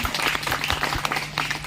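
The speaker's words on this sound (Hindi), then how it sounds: "आप अपने माँ बाप के लिए एक बार ताली बजा सकते हैं।" An audience at a poetry recital held at a college claps for their parents, a brief, dense burst of crowd applause with a faint steady hum beneath it.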